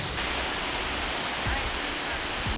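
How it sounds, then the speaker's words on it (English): Continuous broadband rushing of water, steady and full like a stream or small waterfall close by, with faint voices underneath, at Letchworth State Park. "listening to the water just run, this rush of water"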